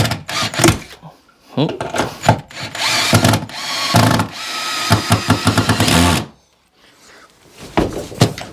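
A power drill bores into wood for shed shelving in several whirring bursts of differing length, broken by short pauses and clattering handling noises, loud and close.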